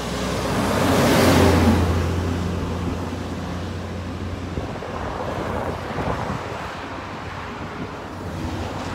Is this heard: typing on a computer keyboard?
no